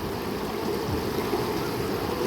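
Slow-flowing water of the Bitbit River in Norzagaray, Bulacan, a steady close broadband wash and rush with no pauses or voices.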